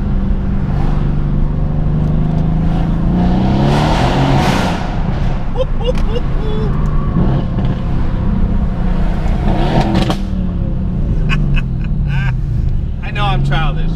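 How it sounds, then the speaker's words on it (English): Mercedes-AMG twin-turbo V8 revving loudly in a tunnel, deep booming engine roar rising and falling with echoing throttle blips and pops, close and sustained, with a voice talking over parts of it. "for a twin turbocharged V8, man, it sounds amazing"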